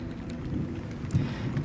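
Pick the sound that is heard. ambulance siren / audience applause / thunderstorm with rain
thunderstorm with rain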